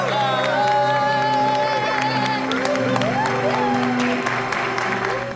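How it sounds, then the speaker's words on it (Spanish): A crowd claps and cheers after a trophy is lifted, lively applause with whoops and excited voices over a bed of tonal music, holding loud and full before easing off at the end. "Un fuerte aplauso."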